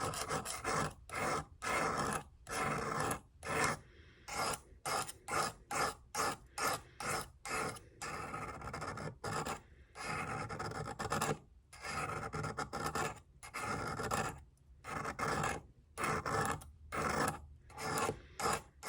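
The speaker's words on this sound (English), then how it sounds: "when you're sharpening, you don't roll it off the stone because that'll take your tip off." A knife blade is drawn repeatedly across a sharpening stone, making a steady run of short, close rasping strokes in quick rhythm with brief gaps, loud and clear with no talking.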